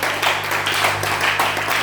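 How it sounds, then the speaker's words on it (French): A church congregation claps hands in praise, a dense, loud patter of many hands with a faint steady hum underneath. "Donnez-moi des mains d'acclamation au Seigneur."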